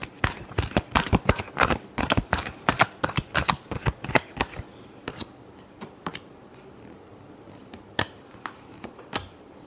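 Tarot cards being shuffled up close in a rapid burst of crisp snapping riffles and taps that slow to sparse single clicks, fairly loud with no talking.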